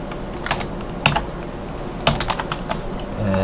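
Bursts of computer keyboard typing with clustered key clicks, then brief pauses, close and fairly loud, with no voices.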